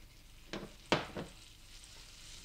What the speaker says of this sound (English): take the butter and some olive oil and put that